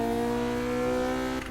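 Stock Acura RSX engine in the racing game NFS Heat, a steady buzzing four-cylinder drone with strong tonal harmonics holding a constant pitch, then briefly dipping near the end, loud and close with no talk over it.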